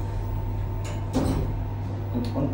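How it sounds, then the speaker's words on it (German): An elevator door slides shut with a couple of soft knocks and thumps over a steady low mechanical hum from the car. "Tür geht zu."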